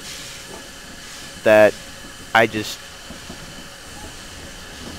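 An LBSCR Stroudley Terrier 0-6-0T steam locomotive in Train Simulator 16 rolls in with a low, steady mechanical rumble and hiss, while someone briefly speaks over it.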